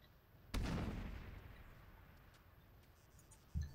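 A grenade blast in Arma 3 erupts as a sharp, loud explosion followed by a long rumbling decay, with a second thud arriving near the end.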